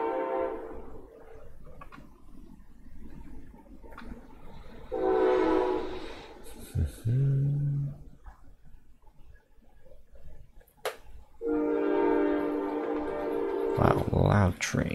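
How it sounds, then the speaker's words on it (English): A loud train passes nearby, sounding its horn in two long, harmonic blasts over a rolling rumble of the cars, with people talking quietly in between. "Wow, loud train."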